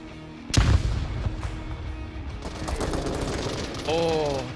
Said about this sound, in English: A lot more gunfire going on